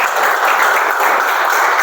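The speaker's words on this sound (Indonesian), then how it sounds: "Kasih tepuk tangan temennya dulu." Schoolchildren in a classroom clap together for a classmate, a dense, steady burst of close applause filling the whole moment.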